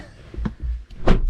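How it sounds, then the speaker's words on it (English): Car door fitted with Dynamat sound deadening shutting with a short, solid, low thump, close and loud, after a few softer handling knocks. "Closing that door, that was a big difference. That really sounded like a thump then, as opposed to a wah."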